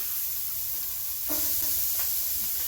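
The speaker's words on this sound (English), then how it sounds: "We're going to go ahead and go in with the onion." Onion goes into a hot pan for shrimp fra diavolo: a quiet background hiss swells into a brighter sizzle partway through, with a few short scraping touches, close and without talk.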